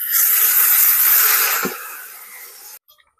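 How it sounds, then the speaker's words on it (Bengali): Mutton curry is poured straight from a pressure cooker into a hot kadai, setting off a loud, close hiss that gradually fades over a few seconds before cutting off abruptly. "এবার আমি প্রেসার কুকার ধরেই ঢেলে দেবো।"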